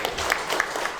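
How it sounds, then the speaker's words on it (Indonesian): A brief burst of audience applause at an Indonesian small-business talk show, dense overlapping claps from a crowd lasting about a second. "Tepuk tangan ya"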